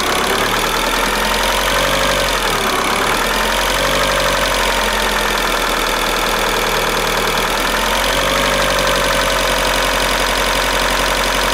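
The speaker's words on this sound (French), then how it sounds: "là je vais accélérer, je vais faire exprès, et vous allez voir que les injecteurs sinon ils marchent très bien" A car engine with faulty injectors runs loud and close, a steady dense drone that dips briefly around the middle and recovers, rough and uneven as if juddering after the pedal is released.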